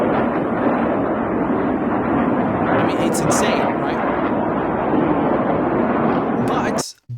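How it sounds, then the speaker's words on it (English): Hezbollah rocket salvo launching toward Israel, a continuous loud roaring rush of many rockets with a few sharp bursts, heard from some distance; someone speaks briefly over it near the end. "this salvo of rockets here, the volley that Hezbollah lobbed at the Israelis"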